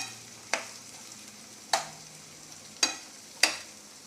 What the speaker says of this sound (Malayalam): ഇനി ജസ്റ്റ് ഒന്ന് വഴറ്റി കൊടുക്കണം.